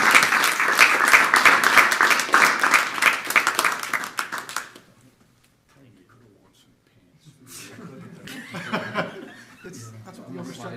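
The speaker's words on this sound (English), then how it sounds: "Everyone, please join me in applauding Mr. Dupree's achievements and for earning this well-deserved scholarship." Audience at a town council meeting applauds a scholarship recipient, loud sustained clapping that fades out midway, followed by a quiet gap and then murmuring voices and light chuckling nearby.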